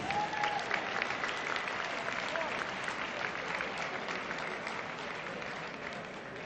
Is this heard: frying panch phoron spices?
no